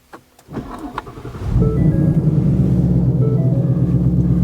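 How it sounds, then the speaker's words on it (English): A 2023 Ford Mustang Mach 1's 5-liter V8 engine cranks and catches, then settles into a deep, loud, steady idle rumble close by. "You'll hear that massive 5-liter V8 engine roar to life"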